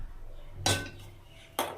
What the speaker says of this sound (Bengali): কড়াই চাপিয়ে দিলাম।